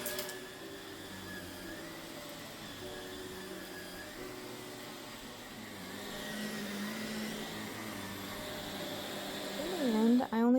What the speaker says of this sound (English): I'm vacuuming her floor.